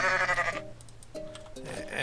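A goat bleats in Goat Simulator while playing as the Devil Goat, giving a few loud, wavering, tonal calls close up, with short pauses between them and game sounds around them.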